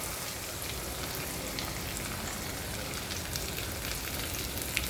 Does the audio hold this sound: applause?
no